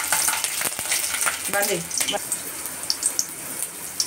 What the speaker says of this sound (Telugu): ఆయిల్ వేసుకోవాలి, ఇందులోకి వెల్లిపాయలు వేసుకోవాలి